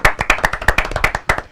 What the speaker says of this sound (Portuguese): Palmas pro Ronaldo.